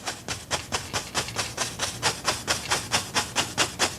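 A paintbrush tapping on wet canvas to make mist, a steady run of about fifteen soft, brushy dabs at an even rhythm, close and quiet.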